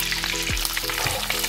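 Butter sizzles in a hot frying pan with a steady crackle, broken by a few scrapes and clinks of a utensil stirring nearby.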